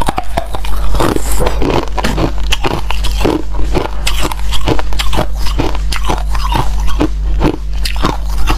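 Shaved ice is smashed and crunched in rhythmic, loud close-up bites, roughly one crisp crunch every half second over a steady low hum, with no talking.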